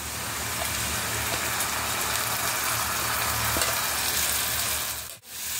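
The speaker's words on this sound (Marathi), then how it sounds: "आता हे बघा, यात मी हा कोळंब घालते।" Prawns frying with onion, coriander powder and red masala in a pan, giving a steady dense sizzle that runs loud and continuous before cutting out briefly near the end.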